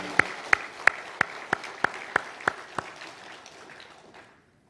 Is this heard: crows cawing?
no